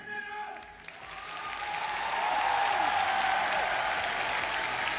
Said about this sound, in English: You hear that crowd?